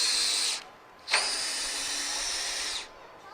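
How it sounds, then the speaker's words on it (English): A power drill whirs in two bursts, a short one then a longer steady run, close and loud, adjusting the leg of a boat dock. "just jump on top with your drill and adjust the leg"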